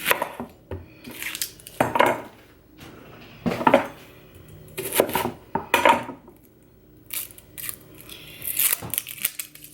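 A kitchen knife is sharpened in a home kitchen before an onion is chopped: a series of bright, scraping metal strokes in uneven bursts, fairly close and clear, with no talking over them.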